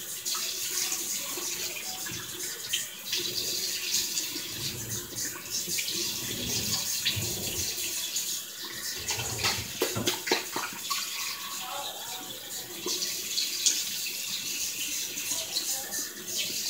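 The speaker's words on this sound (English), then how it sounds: "Warm water, wash my face." Warm water runs steadily from a bathroom tap during a face wash before bed, with a continuous close hiss and splashing that shifts as hands move through the stream. Faint talk is heard now and then.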